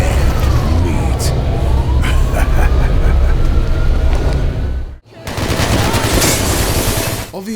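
Dense, continuous gunfire from the shooter game Hatred, with rapid automatic bursts and a wailing siren underneath. The racket cuts out briefly and then resumes, loud and busy throughout.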